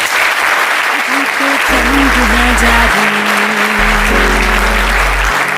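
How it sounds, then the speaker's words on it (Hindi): A hall audience bursts into loud, sustained applause, a dense wall of clapping that carries on throughout, with a low musical tone underneath and a voice faintly present. "ऐसा ही इनके लिए जोरदार ताली"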